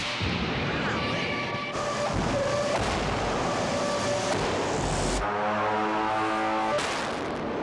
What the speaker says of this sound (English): I want them now to fire this big cannon